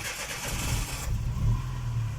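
A car engine starting during a driving lesson: about a second of cranking, then the engine catches and settles into a steady low idle, close and alone.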